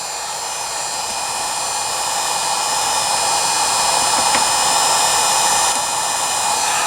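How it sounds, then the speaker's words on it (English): A heat gun blowing hot air onto a part during restoration of a Philco 41-245 radio, a loud steady whooshing roar with a faint whine, continuous and unbroken, with no voices. "here's our heat gun, and we're gonna give it a shot"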